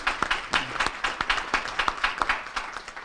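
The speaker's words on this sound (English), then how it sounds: "Let's give our sponsors another round of applause." A small audience claps for sponsors at a regional business event, producing a brief, sparse round of distinct individual claps, fairly close and evenly paced, with no talking over it.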